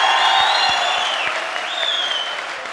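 A studio audience at an Afghan singing competition results show applauds steadily throughout, a dense, loud wash of clapping with no talk over it.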